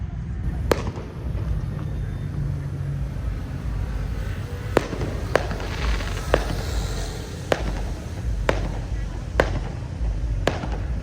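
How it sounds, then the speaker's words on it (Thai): Tourists set off fireworks at a Loy Krathong festival in Chonburi, Thailand. About eight sharp, scattered bangs pop at a moderate distance over a constant murmur of outdoor crowd noise. "เริ่มจุดแล้วแต่ไม่ใช่พลุของ ที่จัดงานนะ เป็นพลุแบบว่า นักท่องเที่ยวครับ มาจุดเองนะ"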